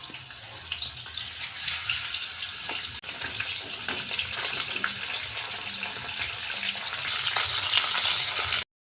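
Tilapia fish pieces rubbed with salt and chili powder sizzle in hot oil, a loud, dense, continuous crackling fry that holds steady and grows slightly louder near the end, with no talk.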